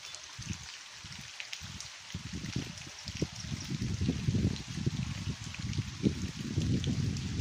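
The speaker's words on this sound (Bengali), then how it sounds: "ঝড়ে বৃষ্টি পড়ছে" Rain falling during a storm beneath a jackfruit tree, a faint continuous patter with irregular drips and splashes that grows denser and slightly louder as it goes on.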